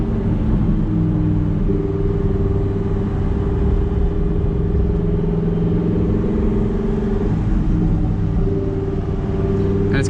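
A Lamborghini Huracán Performante engine rumbles steadily at close range, loud and continuous, with a low throaty idle and slight shifts in tone.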